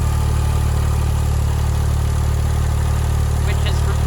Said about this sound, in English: So right there is the 6-cylinder engine. A twin turbo.